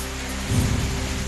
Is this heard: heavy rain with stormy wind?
yes